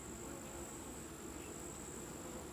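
Bees buzz in a steady, dense drone during a beehive inspection, a continuous close hum with a constant high whine over it, no voices.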